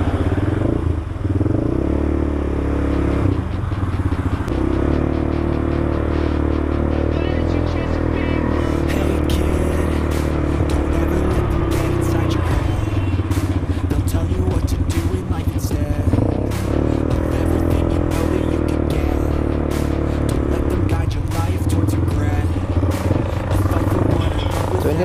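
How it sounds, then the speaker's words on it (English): A 200cc ATV engine runs steadily on an outdoor test ride after rain, a continuous loud motor drone with clattering and scraping mechanical noise throughout, and voices occasionally talking over it. "So, test ride lang naman natin siya."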